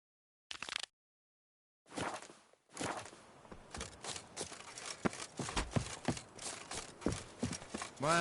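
Horse hooves clip-clop in The Witcher 3, a steady rhythmic trot of close, fairly soft hoofbeats that starts after a brief thump and a short silence, with no voices over it.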